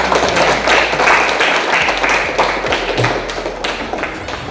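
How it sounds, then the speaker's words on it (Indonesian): Classroom of students clapping their hands together in a lesson, a dense burst of applause that stays steady and then gradually thins, with a few thumps. "Tepuk tangan"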